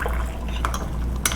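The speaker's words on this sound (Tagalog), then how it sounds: "Nilalagyan ko siya ng tubig para mabilis kong mainom." Water is poured from a kettle into a cup, a short, quiet trickle with faint clinks of the cup.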